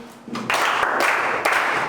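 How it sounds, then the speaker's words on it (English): Classroom applause for a student in a form 2 math lesson: a short burst of dense, steady hand clapping from a group, fairly soft, starting with a few taps and holding for over a second. "Clap hand."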